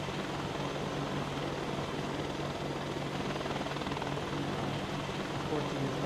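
A helicopter engine in the DayZ video game drones at full throttle, a constant dense whirring roar that stays steady and loud throughout.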